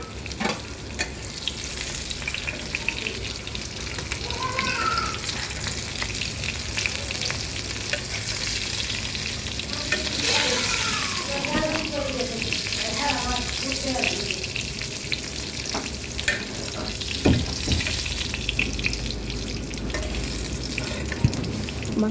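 Pieces of pointed gourd fry in hot oil in a pan, giving a continuous, even sizzle with occasional stirring scrapes throughout.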